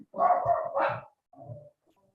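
Dog at home barking close by: two quick loud barks run together, then a softer third bark after a short gap, with a faint trailing whimper and no talk.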